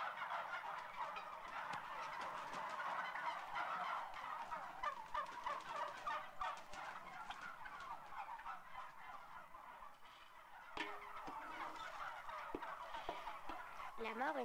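A flock of turkeys gobbles continuously, their overlapping calls close and loud, with a few sharper calls standing out near the end.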